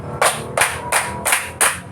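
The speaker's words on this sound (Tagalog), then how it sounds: "Bigyan natin ng 5 palakpak ang ating mga sarili" A classroom of children gives itself five claps: five evenly spaced, sharp group claps roughly a third of a second apart, each a crisp burst with a short tail, close and fairly loud.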